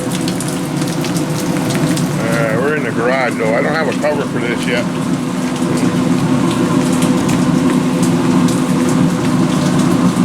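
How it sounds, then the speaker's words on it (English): Steady heavy rain pours from a gutter close by, a constant watery rush and splashing, with someone talking briefly over it. "Yeah, raining out of my gutter."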